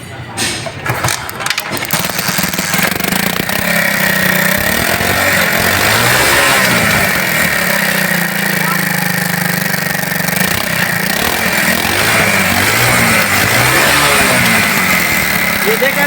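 A 70cc motorcycle engine with a misfire sputters to life after a few sharp bursts, then idles and revs steadily with a buzzy, uneven drone close by.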